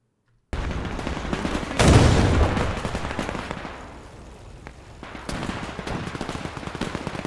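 Mortar fire in Men of War II starts abruptly, with a heavy booming impact around the two-second mark over a continuous crackle of battlefield gunfire that fades and then picks up again, and no talking.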